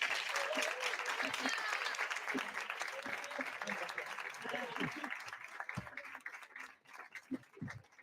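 An audience at a poetry slam night in Cartagena applauds the guest poet Anita, dense clapping that fades gradually over several seconds, with a few voices rising through it.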